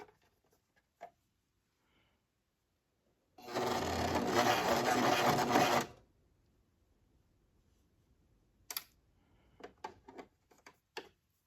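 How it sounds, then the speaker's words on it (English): A serger sewing machine runs in one steady burst of about two and a half seconds, stitching beads onto fabric with a beaded foot. Afterward come a few quiet ticks and taps. "now what you're going to do is you're going to take your time and sew it"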